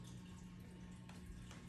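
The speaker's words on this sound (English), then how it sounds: "you're probably hearing the noise of the fish tank if you're wondering what that noise is in the background" Steady, faint running water from an aquarium in a log cabin home, a continuous low trickle with a constant hum beneath it, alone without any voices.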